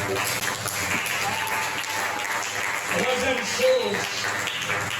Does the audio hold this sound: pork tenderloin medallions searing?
no